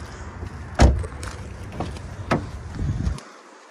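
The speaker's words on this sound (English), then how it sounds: "Here's our driver's seat door." Driver's door of a blue 2014 Hyundai Sonata GLS opens with a sharp latch clunk, followed by a few lighter knocks and rattles as it swings, close up with no talk.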